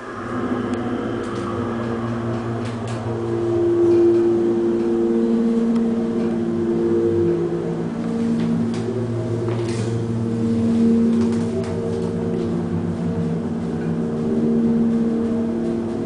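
A Kone hydraulic elevator motor runs in the NRG Center in Houston, Texas, giving a steady humming drone with whining tones that swell and ease over a constant low rumble, alone and moderately loud.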